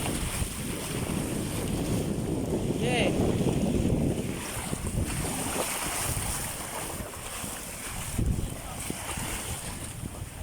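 Wind and sea noise on a boat ride at sea around Cabgan Island, a steady rushing roar with microphone buffeting. A person speaks briefly over it.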